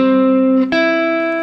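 A guitar arpeggio played with a fingertip roll rings out as sustained, bright notes, loud and close, with one fresh pluck partway through and no voices.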